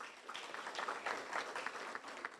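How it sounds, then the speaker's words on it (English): A distant, faint round of steady applause from an audience welcoming a veteran and former Air Force pilot to the podium, continuous without a break. "Please give him a round of applause."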